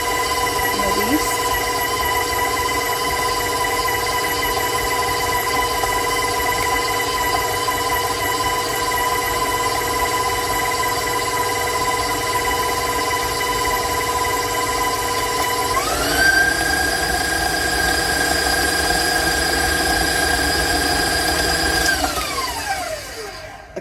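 Stand mixer beating chocolate chip cookie dough with lard, a steady motor whine at one speed that steps up to a higher pitch and then winds down, loud and close with no talking.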